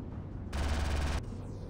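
Spaceship guns firing from behind in Star Citizen's Arena Commander, a steady buzzing burst of rapid fire lasting under a second over a constant engine rumble.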